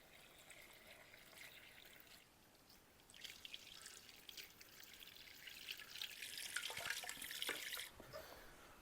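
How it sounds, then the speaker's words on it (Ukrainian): Cold water pours steadily into a pot, a soft splashing trickle that grows louder and fuller as it continues, with no voices. "Заливаємо холодною водою."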